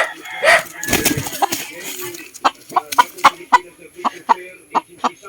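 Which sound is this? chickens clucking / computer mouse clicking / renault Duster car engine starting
chickens clucking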